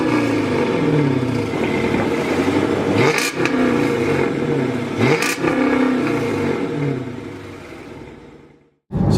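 A 2009 Chrysler 300C with a 5.7 Hemi V8 and no aftermarket intake drives off, its engine note steady and loud throughout, with two brief gear-change dips before cutting out near the end.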